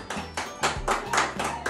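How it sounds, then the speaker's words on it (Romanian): A small crowd at a family birthday surprise claps in short, uneven bursts of applause, close and moderately loud, with no talk over it. "Multe, multe aplauze,"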